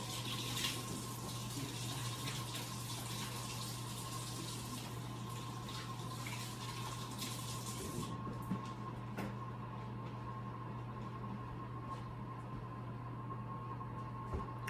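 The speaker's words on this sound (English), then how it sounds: "let me wash my hands again" Hands are rinsed under a running kitchen tap during cooking. The water makes a steady, close hiss that softens partway through and then trickles on more quietly.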